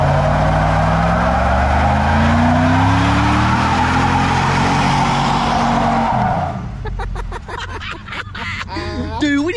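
Camaro pace car doing a tire burnout, a loud, roaring engine with screeching tires held for several seconds before easing off, then people talking over the idling car.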